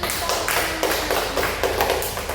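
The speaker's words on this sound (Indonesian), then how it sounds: "Oke, kita kasih aplaus dulu" Small group in a classroom counselling session clapping together, a brief run of light, fairly even hand claps at close range.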